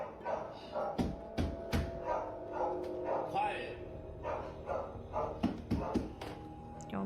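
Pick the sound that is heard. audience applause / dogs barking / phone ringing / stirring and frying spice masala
dogs barking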